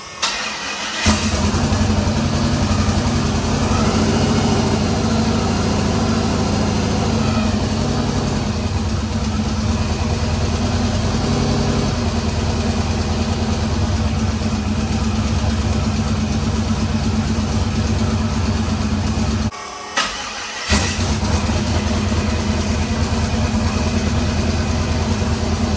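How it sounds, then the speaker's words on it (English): A twin-turbo LS engine in a C10 truck idles loudly and steadily just after start-up, with a rough mechanical rumble, a brief cut near the end, then the idle resumes. "All right, so the truck cranked up"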